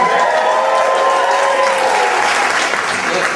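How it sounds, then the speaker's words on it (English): Loud, sustained applause with some cheering fills a comedy club audience, steady throughout with a faint tonal hum underneath. "applause, yeah?"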